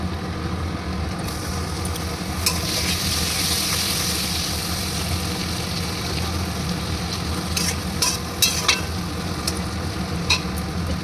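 Chopped tomatoes frying in a pan after chilli powder, stirred with a spoon: a steady close sizzle runs throughout, with occasional scraping knocks toward the end.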